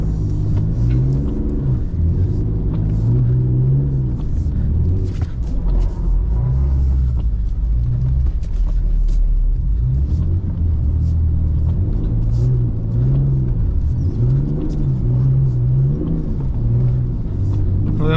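BMW E39 engine rumbles steadily and revs in low gear while driving through deep snow in a blizzard, a continuous loud drone with rising and falling pitch, a voice briefly audible over it.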